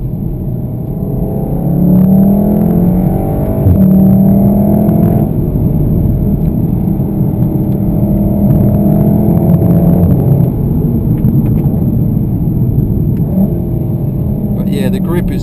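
A 2015 Volkswagen Golf R Mk7 engine pulling hard at full throttle through a sharp corner, a steady in-cabin drone that swells as revs climb, with someone talking over it throughout.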